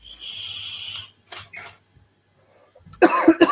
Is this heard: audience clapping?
no